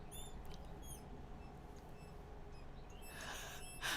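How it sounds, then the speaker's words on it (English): Office chair squeaking in short, thin, high chirps repeating through a quiet room, faint and close, with no talking. "my chair is squeaking and Milo's like, bird?"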